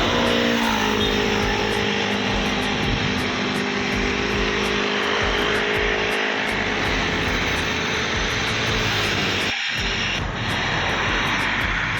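A bus and a truck roar past on a road in Banda Aceh, a loud, continuous engine drone with tonal whine that fills the whole stretch with no quiet gaps.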